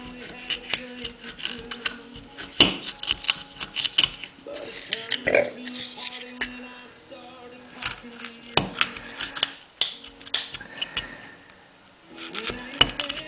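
An X-Acto craft blade rocked back and forth in drilled wood to pry out a section, giving small close clicks, ticks and scratchy scrapes in irregular bursts, with no one talking.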